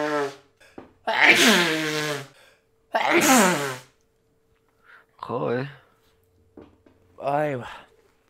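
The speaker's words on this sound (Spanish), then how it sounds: "voy a volver a estornudar" A person sneezes twice in quick succession, loud and close, followed by laughter and short breathy vocal sounds, with no background noise between bursts.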